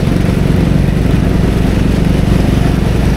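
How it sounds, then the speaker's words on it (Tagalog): Motorcycle engines run in floodwater during monsoon flooding in Malolos, giving a loud, close, steady mechanical throb with an even pulsing rhythm and no talk. "Ay, may mga motor atan."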